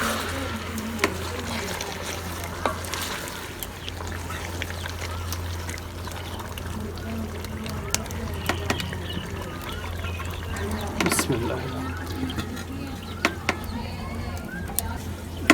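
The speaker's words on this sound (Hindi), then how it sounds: "पानी ऐड करना मैं भुल गया सी तकरीबन आधा कप पानी ऐड करांगे" Water is poured into beef karahi cooking in a pan, giving a steady low trickle and simmer against a constant low hum, with scattered clinks and faint background sounds.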